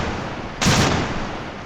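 Naval gunfire in the video game Victory at Sea Atlantic during the Battle of the River Plate, a single heavy boom from a cruiser's guns rising briefly over a constant loud background rumble.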